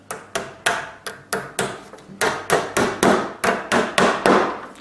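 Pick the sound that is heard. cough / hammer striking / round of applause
hammer striking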